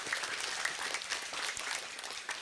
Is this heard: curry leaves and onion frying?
no